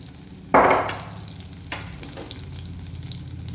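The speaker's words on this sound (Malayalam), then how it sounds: "അപ്പോൾ വെണ്ടക്ക വഴന്ന് വന്നിട്ടുണ്ട്." Okra (lady's finger) sautéing in a pan hits with a sudden burst of sizzling, then settles into a steady low fry, with a short scrape of stirring partway through.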